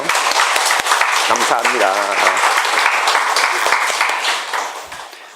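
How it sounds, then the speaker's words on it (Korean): Applause from a church congregation during a Sunday service at Happy Daniel Church, steady dense clapping filling the room, with someone speaking briefly over it before the clapping fades near the end. "우리 다 같이 한 번만 더 박수를 칠까요?"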